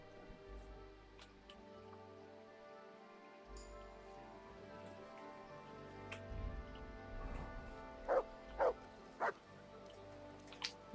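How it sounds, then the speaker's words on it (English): A dog in the video game Kingdom Come: Deliverance 2 gives a few short, faint yips near the end, set against quiet in-game ambience. "Here, Mutt. I apologise. Good boy."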